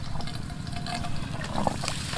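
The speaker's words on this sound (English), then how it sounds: "you can see the water flow like this" A steady rush of water flowing from a pressure pump at a river, continuous and close, with faint trickling and bubbling over it.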